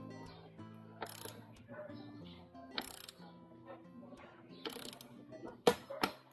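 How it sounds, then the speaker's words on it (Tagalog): A torque wrench set to 12 to 14 newton metres clicks on a Trinx mountain bike, giving a few sharp ratchet clicks over faint background hum, with a louder pair of snaps near the end. "gamitan na natin ang torque wrench"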